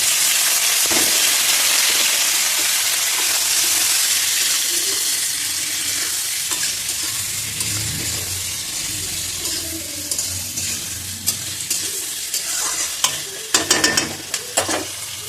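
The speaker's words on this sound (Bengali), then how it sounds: "এবার দিয়ে দিচ্ছি পেঁয়াজ কুচিগুলো" Chopped onions frying with garlic and ginger in a pan for chili chicken, a close steady sizzle that softens gradually, with a run of quick spatula scrapes and clinks toward the end.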